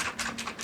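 Rapid typing on a Cooler Master CK350 RGB mechanical keyboard with Outemu switches, with a quick series of close, crisp key clacks and no one talking.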